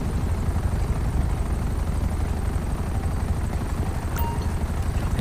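Several news helicopters hover overhead in the game GTA 5 during a police arrest, their rotors making a dense, continuous thudding rumble with a brief sharp click near the end.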